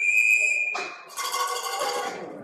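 A referee's whistle at a youth ice hockey game gives one sharp, loud blast, followed by crowd and arena noise.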